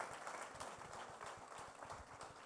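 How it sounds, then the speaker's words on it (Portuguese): Church audience at a Portuguese-language service clapping for Jesus, a crowd's quiet, fairly even applause with scattered individual claps, heard faint and somewhat distant throughout. "dê um aplauso a Jesus"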